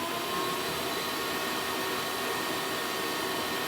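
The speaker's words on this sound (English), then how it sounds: "let's begin by turning on the shop vac." A shop vacuum runs steadily at close range, a loud continuous whooshing roar with an airy hiss that holds even throughout.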